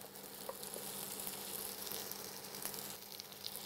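Carrots fry in hot oil for a Bengali-style mutton stew, giving a steady, close hiss of sizzling with faint crackles and no talking.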